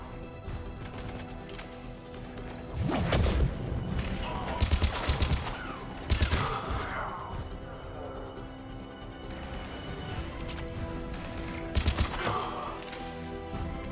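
Gunfire in the video game Mass Effect 3, several sharp bursts and bangs scattered through a checkpoint firefight over a low ambient bed, with faint game voices in the background.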